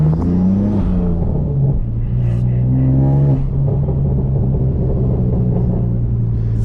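A manual BMW M3 engine revs loud and close while the car slides in a drift, harmonics rising and falling through steady throttle blips with tyre rumble underneath, continuous throughout.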